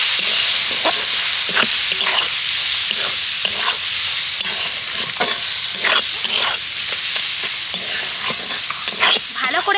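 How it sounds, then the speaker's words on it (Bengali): Spices with cumin powder and Maggi masala sautéing in a pan give a loud, close, continuous sizzle broken by repeated stirring scrapes, with no talking. "এবার আমি এই সমস্ত মশলাটাকে কষিয়ে নেব"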